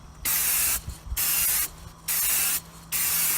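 Four loud, even bursts of tire shine spray hissing onto a tire, each about half a second long with short pauses between, close and clear with no voices.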